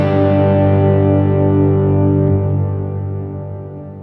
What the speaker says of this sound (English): I'll keep the delay on and you'll hear the cave reverb.